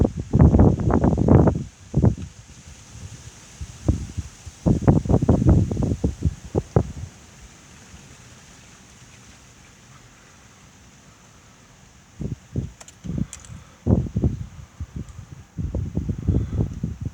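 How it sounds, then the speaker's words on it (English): Strong gusts of wind during a severe thunderstorm buffet the microphone in loud, roaring bursts that rise and fall over a steady background rush, with a calmer stretch in the middle. "Camera's gonna be shaking right now because of the wind."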